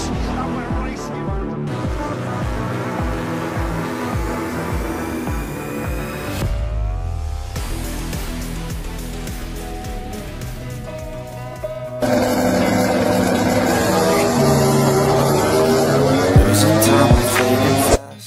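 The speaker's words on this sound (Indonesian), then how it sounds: "It's lights out, and we're racing." MotoGP motorcycles roar off the line together at the race start, a dense wall of loud, rising and shifting engine notes that swells even louder near the end.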